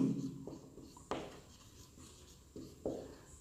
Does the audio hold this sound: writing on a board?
yes